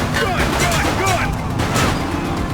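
Gunfire in The Precinct police game during a foot chase, a quick burst of several sharp cracks over a busy background with shouted voices.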